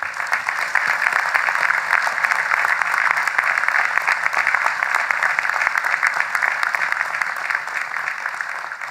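An audience at a University of Mississippi 2013 commencement ceremony welcomes the speaker with sustained, loud, dense applause, many hands clapping steadily and evenly throughout.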